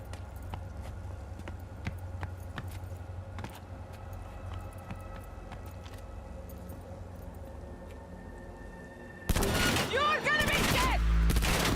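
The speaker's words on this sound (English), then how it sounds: "Shots." Gunfire in the Night City streets of Cyberpunk 2077: a quiet stretch of ambience and voice, then a sudden loud, dense volley of shots near the end.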